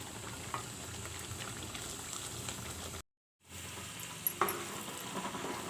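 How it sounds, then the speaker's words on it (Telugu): Egg gravy curry boiling and bubbling in a pot on the stove, a steady close sizzle with soft popping bursts, briefly cut to silence midway, no voices. "చూడండి ఫ్రెండ్స్, ఉడుకుతుంది కదా, బాగా బబుల్స్ వస్తున్నాయి."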